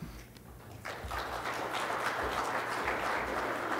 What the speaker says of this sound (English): So give Jan a little clap.